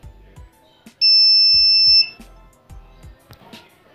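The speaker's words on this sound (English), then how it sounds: "buzzer is giving sound" A loud, steady electronic beep from an Arduino touch-sensor buzzer holds for about a second, piercing and close, amid soft low thumps and clicks before and after.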